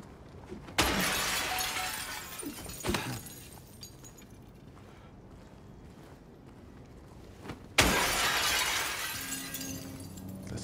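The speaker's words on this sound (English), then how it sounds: "I could break glass and stuff, looking for ways in." Glass shatters loudly twice in the Silent Hill 2 Remake, each crash a sharp burst followed by a trailing tinkle of shards, separated by a quiet stretch with faint footsteps.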